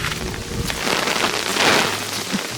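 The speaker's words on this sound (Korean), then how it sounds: "비가 너무 많이 내리는 거예요" Heavy rain pours down during car camping in a monsoon downpour. Dense, loud drumming hits the surfaces close by, with a gusty rush swelling midway.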